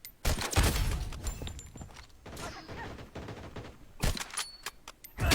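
Rapid video game gunfire from a gun skin, dense bursts of shots close and loud, with a heavy flurry at the start and fresh volleys near the end.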